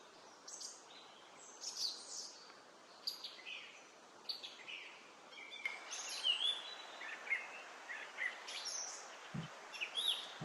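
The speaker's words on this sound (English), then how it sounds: "I've got plenty of birds hanging out in my office today." Small birds chirp and tweet in repeated short, bright calls from several directions inside an office, fairly close, with no talking.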